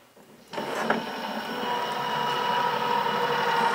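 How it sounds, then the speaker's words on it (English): An AccuQuilt GO! fabric cutter feeding fabric and a cutting mat through its rollers starts abruptly after a moment of quiet, then settles into a steady, close mechanical rolling hum that slowly grows louder. "you just get it started going through the cutter and it feeds itself."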